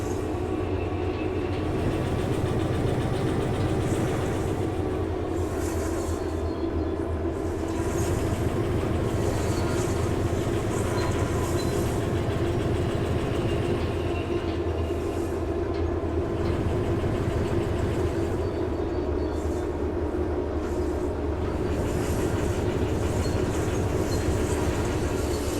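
Train carriages rolling on rails in the game Derail Valley, a steady rumbling clatter with rhythmic clickety-clack beats, continuous and alone without talk.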